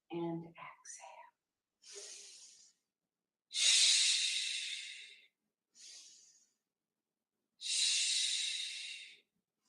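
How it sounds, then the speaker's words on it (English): Deep yoga breaths alternate slow inhales and long exhales, breathy and close, in a quiet room after a brief spoken voice at the start. "So moonflowers are really all about your breath. Inhale and exhale."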